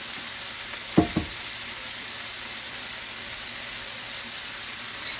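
Ground beef frying in a pan for a quick cheesesteak, a constant hissing sizzle with a couple of soft scraping knocks as it is stirred, then steady frying alone.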